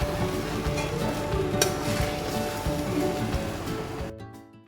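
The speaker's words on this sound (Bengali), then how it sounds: "চালটাকে ভালোভাবে মিক্স করে নিচ্ছি" Rice coated with ginger and spices is stirred and tossed in a hot kadai while making basanti pulao, giving a steady scraping, rustling sizzle that keeps going and then drops away abruptly near the end.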